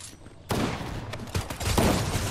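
Shotgun blasts from a Fortnite match, several sharp broadband bangs in quick succession at close range, loud over a busy background of game sound.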